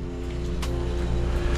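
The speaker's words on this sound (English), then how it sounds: "He's gonna spray down the cage right now on the way to the front" A pressure washer sprays down a tall pool cage outside a house, its spray a steady close hiss over the constant drone of the machine's motor.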